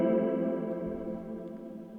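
A strummed chord played on a virtual instrument in beat-making software for a smooth R&B beat, with chorus and echo effects. It rings as a sustained, shimmering tone that slowly fades, with no talking.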